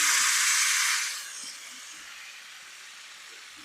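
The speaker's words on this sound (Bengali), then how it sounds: "তেল গরম হয়ে গেছে, এবার মাছটা দিয়ে দিলাম তেলে।" Fish dropped into hot oil for a fish fry bursts into a loud, close hiss for about a second, then quickly fades to a quiet, steady sizzle.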